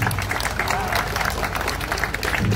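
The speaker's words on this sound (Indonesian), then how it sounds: "silakan kasih tepuk tangan untuk Om Pram" An audience at a Tebet Eco Park gathering claps and cheers continuously, a dense crowd applause that holds at full strength throughout, with voices mixed in.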